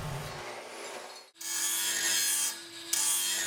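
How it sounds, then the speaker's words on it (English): A metal-cutting saw with a toothed blade bites into steel for a welding table, giving a harsh, close rasping and whining cut that stops briefly, then resumes loud and steady with a high ringing tone. "A metal cutting saw with a tooth blade costs more,"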